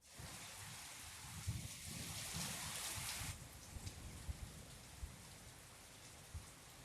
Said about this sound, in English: You can hear the rain here.